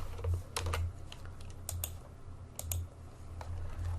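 Someone types a short paragraph of web page code on a computer keyboard, producing quick irregular clusters of soft key clicks at close range with brief pauses between bursts, quiet and with no voices.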